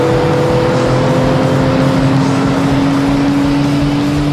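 A Porsche GT3 race car on a racetrack holds a steady, high engine drone with a gradually rising pitch as it runs a fast lap, loud and alone with no voices.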